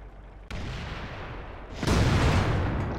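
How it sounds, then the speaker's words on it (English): Tank cannon shots in World of Tanks: a sharp blast cuts in, followed by a heavier, louder boom with a rolling rumble over steady battle ambience. "get on this side of the building so we can shoot at the Panther"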